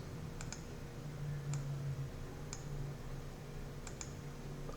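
Several light, sharp computer mouse clicks, some in quick pairs, spaced a second or so apart over a low steady room hum, close and with no talking.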